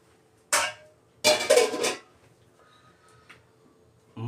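A lid set back onto a pot with a sharp metallic clank, followed by a longer rattling clatter as it settles. The sounds are close and loud against a quiet room.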